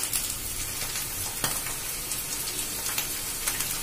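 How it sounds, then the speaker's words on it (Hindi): Grated potatoes for a potato halwa fry in a pan with a steady, loud sizzle that carries all the way through, with a few sharp crackles and pops rising above it. "इस बीच हमारा आलू भुने जा रहा है बढ़िया।"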